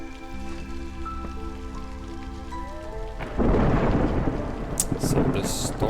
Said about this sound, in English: So the storm is coming.